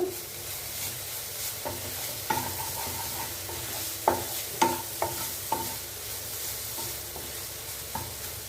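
Elephant foot yam being stirred and sautéed in a pan, with a steady sizzle under a series of sharp scrapes and knocks from a spoon against the pan.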